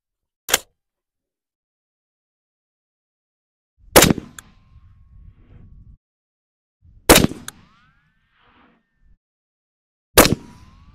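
Three sharp .308 AR rifle shots fired at a 50-yard range, each a loud isolated crack spaced about three seconds apart, followed by brief ringing and low rumble before silence.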